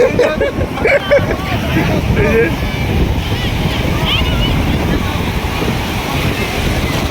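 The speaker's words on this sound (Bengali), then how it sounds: "বড় বড় ঢেউ আসছে" Big sea waves break at Digha beach with a loud, continuous roar and wash of surf, buffeted by strong wind across the microphone, while a crowd murmurs faintly in the background.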